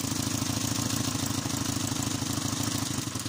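A small engine with a spark plug pulled runs at a fast, even pulsing chug, loud and close, with a rough knocking rhythm and no voices.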